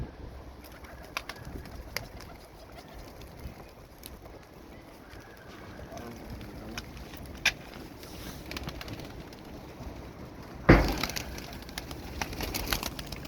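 Soft, low pigeon coos repeat in the background amid faint rustling, then a sudden sharp crunch or clatter near the end.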